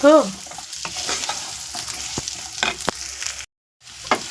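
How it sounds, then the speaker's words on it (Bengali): Potatoes and carrots fry in a pan with a steady broadband sizzle, broken by repeated scraping stirs and a brief clatter at the start, and a short silent gap near the end; no talking. "আলু আর গাজর ভাজা হয়ে গেছে অলমোস্ট"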